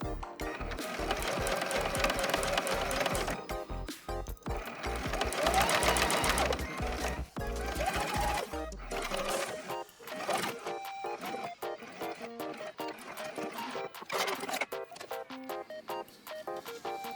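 A sewing machine stitches a zipper onto the seam allowance of a Liberty-print blouse, running in fast rattling bursts with short pauses, close and clear, then slowing to slower, sparser stitching.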